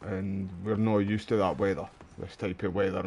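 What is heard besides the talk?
No distinct noise like a dog, phone or traffic.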